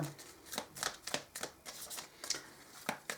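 Tarot cards being shuffled and drawn in a series of crisp riffling bursts and soft flicks, close and fairly quiet, with no talking.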